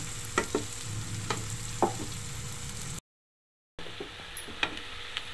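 Chicken fries in a pan while a spoon stirs it, giving a steady sizzle with sharp scraping knocks scattered through, then a brief gap of silence before the frying resumes.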